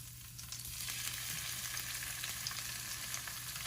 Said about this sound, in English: gonna fry these on the four side